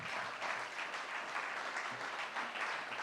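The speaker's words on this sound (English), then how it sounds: "I am sure that you can hear the resounding applause here in the room and the standing ovation that you are receiving" Steady applause from a lecture hall audience giving a standing ovation at an eminent speakers' lecture, dense continuous clapping throughout.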